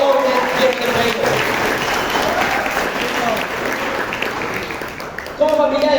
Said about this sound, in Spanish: Un aplauso para esos hombres llenos de fuego.